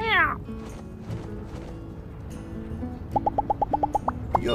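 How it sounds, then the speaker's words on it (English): A cat in the game My Time at Sandrock gives a short rising meow at the start, followed by ambient game sounds and a quick run of repeated chime-like tones near the end. "We need to pet the cat."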